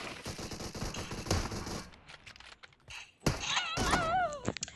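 Gunfire in the mobile game PUBG Mobile, with quick bursts and thuds followed by a quieter gap, then loud sharp shots and a rising, wailing tone.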